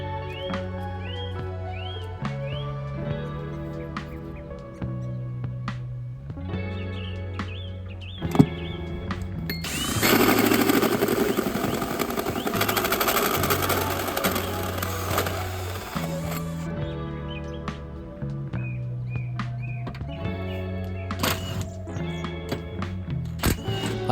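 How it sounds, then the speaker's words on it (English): A loud power drill whirs steadily for several seconds, drilling a hole through a car's firewall, a harsh broadband grinding burst standing out from quieter background music and clatter. "So that's where I'm going to drill and hole"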